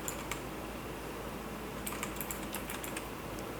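Keys clack on a computer keyboard during a design tutorial, a steady faint patter that turns into a quicker burst of sharp clicks near the end, with no voices.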